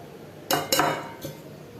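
Spices and masala paste being mixed into fried onion for chicken biryani: two quick close metallic clinks of a spoon against a pot, then a fainter third tap.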